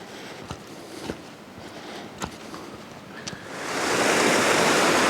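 A Lake District waterfall near Stool Farm in Great Langdale, heard as steady rushing water that swells into a loud, broad roar over the last seconds, with a few sharp clicks and knocks scattered through the quieter start.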